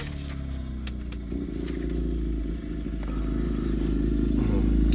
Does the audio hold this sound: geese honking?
no